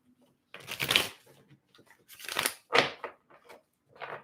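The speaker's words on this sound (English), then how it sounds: "3 shuffles for you guys," Tarot cards riffle-shuffled in several close, crisp bursts with short pauses between them, no voice present.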